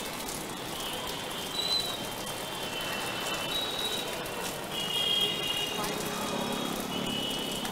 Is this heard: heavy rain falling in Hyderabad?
yes